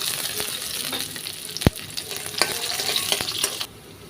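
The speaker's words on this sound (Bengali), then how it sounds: "কিছুটা পেঁয়াজ দিয়ে দিলাম আর সাথে দিয়ে দিলাম এখানে একটা তেজপাতা দু টুকরো করে দিচ্ছি আর দুটো দুই টুকরো দারচিনি আর তিন টুকরো এলাচ" Sliced onion, a bay leaf, cinnamon pieces and cardamom pods drop into hot oil and sizzle loudly and steadily. A sharp clink comes from the pan, the frying is stirred a few times, and the crackle drops off near the end.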